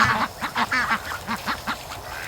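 Dalmatian ducks quack in a quick, repeated series of about eight nasal calls, close by and fairly loud, with no talking.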